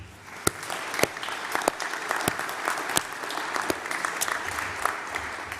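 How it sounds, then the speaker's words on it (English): At a graduation ceremony in Stirling Castle, the audience gives award recipients a round of applause, steady clapping from a crowd with a few sharp, prominent claps from nearby hands. "just a wee round of applause for our four"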